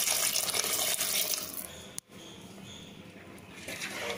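Water splashes and pours into a pot of Chettinad brinjal curry in a continuous rush, broken by a brief knock midway, then a quieter trickle.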